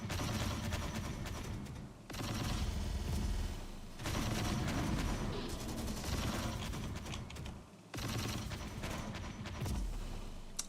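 Rapid, continuous high explosive cannon fire rattles and booms in bursts in a modern military tactics video game with a Humvee on the field, loud and dense, with brief pauses between volleys.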